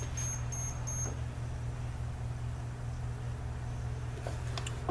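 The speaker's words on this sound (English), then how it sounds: "why are you beeping?" A camera gives three quick, high beeps near the start, faint over a loud, steady electrical hum from test equipment on a workbench.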